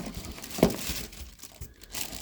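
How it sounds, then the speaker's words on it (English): Plastic bags from a boxed Russell Hobbs Power Boost Blender RHBL700 crinkle and rustle close by during unpacking, with one sharper crackle near the start and softer handling after it, and no talking. "Plastic bags."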